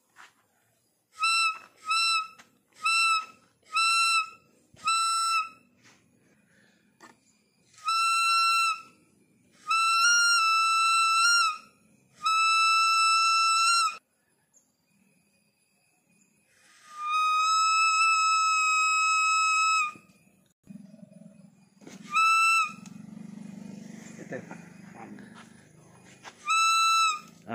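A barking deer hunting call whistle blown in a series of sharp, high tonal bursts, some short and quick, others long and sustained, with quiet gaps between.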